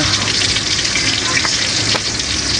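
String beans drop into a pot of simmering sinigang soup with fried fish, giving a continuous close bubbling and sizzling hiss with a couple of soft splashes.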